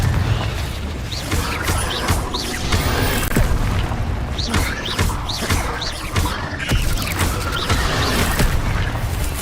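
Fire-spell blasts from the Hogwarts Legacy video game go off in a rapid, repeated series of booms and bursts, loud and close, layered with mechanical clatter and crackle and no speech.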